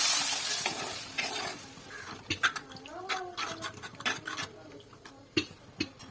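Water hits a pan of frying turmeric, coriander and green chilli powders for a fish curry, giving a loud hissing sizzle that settles into bubbling, with spoon clinks and scrapes close by.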